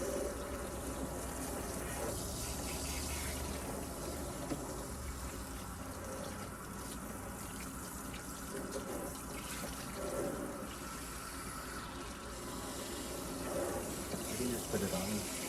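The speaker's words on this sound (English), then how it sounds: "turn on our water" Tap water runs steadily from a pull-out hose at a sink while it is adjusted for shampooing, a continuous broadband rush that stays even and close throughout.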